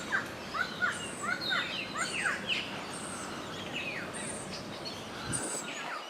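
Birds call all around the rainforest of Kuranda village, with repeated sharp chirps and whistled notes over steady outdoor ambience, some near and some farther off.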